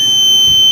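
A piercing high-pitched electronic buzzer from a flame sensor in a connected smart-house model, sounding as one continuous loud tone close by.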